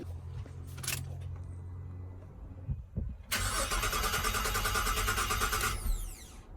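A Holden Commodore VZ with a replacement battery fitted. Its starter whirs in a long steady cranking burst that stops after a few seconds, and the engine never catches. Quieter mechanical hum comes before the crank.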